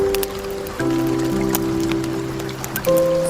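Rain falls steadily beside a crackling fireplace in a thunderstorm ambience, a constant hiss set under sustained, soft, shifting musical tones with no talking.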